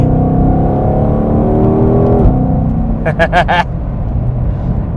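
A deep, loud American muscle car engine rumbles steadily throughout, with a brief rise and dip in pitch midway and a few short sharp bursts near the end.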